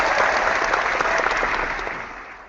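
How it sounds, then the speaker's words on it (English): Canned audience applause sound effect played during a Call of Cthulhu tabletop role-playing session: a dense, steady wash of many hands clapping that holds for about two seconds, then fades away. "oh wait, we have sound effects. I can actually do that. They go wild with applause."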